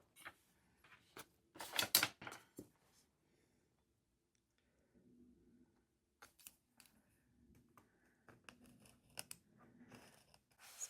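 Scissors snip through paper for a travel journal, a quick cluster of crisp cuts followed by scattered faint snips and paper handling in a quiet room.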